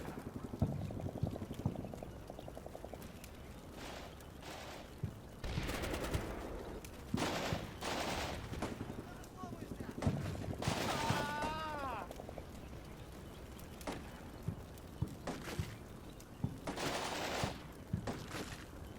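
Gunfire and explosions from the Combat Mission Black Sea war game, with bursts of shots and impacts scattered through the stretch, sometimes sharp and close, along with mechanical and background battle noise.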